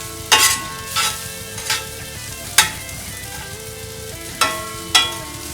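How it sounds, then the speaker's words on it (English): Pre-cooked potatoes being stirred into browned, greasy sausage frying in a pan: a constant close sizzle broken by six sharp scrapes and clacks of the spoon against the pan, with no talking. "So now we're going to add the potatoes in, and even though they're pre-cooked, it's going to help soak up a little bit of that grease"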